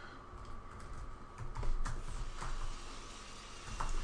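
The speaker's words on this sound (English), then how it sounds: "I am still just typing in my other window" Steady clatter of computer keyboard typing during a StarCraft match pause, dense irregular keystrokes close to the mic with a few louder key hits, no talking.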